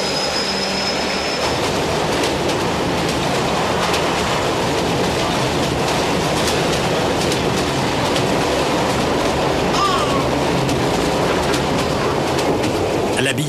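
A train running on a single-track railway in Morocco, with a loud, constant close rumble and rattle of rolling carriages and faint rhythmic clacks throughout, a few high squeals standing out briefly.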